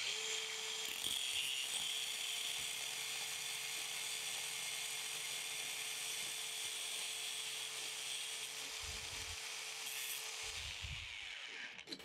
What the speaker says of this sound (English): So I'm just gonna kind of come in here with a cutoff disc and shorten that up